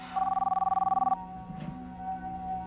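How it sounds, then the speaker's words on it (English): A telephone bell rings in a rapid burst of about sixteen pulses for roughly a second, close and clear, then stops, leaving a low steady hum and a faint room murmur. "Luis, it's your phone again. Ignore it. But it keeps ringing"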